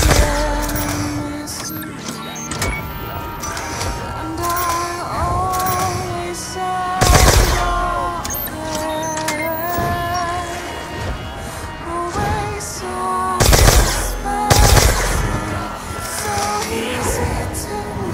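A ray gun firing in a video game, heard as bursts of zapping shots with sharp blasts at intervals over a layered, tonal game soundscape that includes faint voices.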